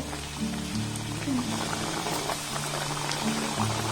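Potato and egg snacks frying in hot oil in a wok, a close bubbling sizzle with soft popping and a few scraping touches, steady throughout.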